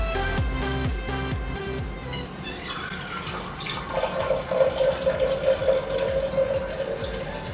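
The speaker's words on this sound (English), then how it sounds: "Even pouring water does not wake them up." Water pours and splashes into a container under a loud musical backdrop, the stream growing louder and bubbling near the end.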